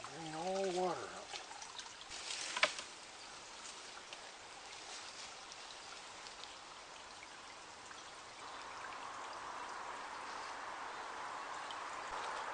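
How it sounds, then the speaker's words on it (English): Water drains from a bent copper supply pipe in a log home under repair, a faint steady trickle and patter that builds slightly in the second half, after a brief squeak and clatter near the start. "Now, bend that pipe down far to drain all the water out."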